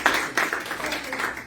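A congregation claps for a girl at a church service, a brief, dense burst of applause with scattered sharp claps, moderately loud throughout.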